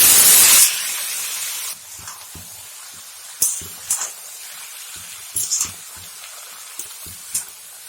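Bottle gourd tipped into hot mustard oil with fried green chilies, a loud burst of sizzling spray at first that quickly settles into a softer crackle, with scattered pops and spits continuing afterward.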